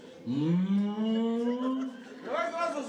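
A voice imitates a cow at a Ukrainian wedding in a bar, giving a long, drawn-out moo close up, followed by a shorter rising call as other voices chatter faintly behind.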